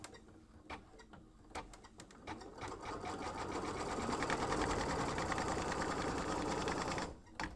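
An embroidery machine stitches fabric held in a hoop, starting with a few scattered clicks and then building into a steady fast whirring hum that stops abruptly near the end.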